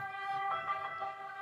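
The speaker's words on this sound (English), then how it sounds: "Is that an ambulance? What is that?" Ambulance siren passing outside during an indoor conversation, a wavering wail heard from a distance at moderate level, with no speech over it.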